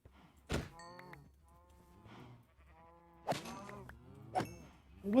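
A few drawn-out, tonal moos from a Minecraft 1.18 cow wandering loose near a fence and cave. The calls are spaced across the stretch, with soft blocky thunks and a low ambient hum beneath them.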